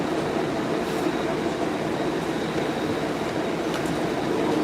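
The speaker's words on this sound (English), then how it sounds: "Subway station." A subway train in a station in Mexico makes a constant loud rumble with broadband roar and faint clatter throughout, and no talk is heard.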